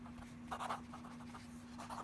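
Pelikan M400 brown tortoiseshell fountain pen writing reverse-side up on paper, a quiet close scratchy nib sound in short strokes over a faint steady electrical hum, with no talking.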